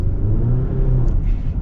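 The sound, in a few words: 2024 GMC Canyon 2.7 engine accelerating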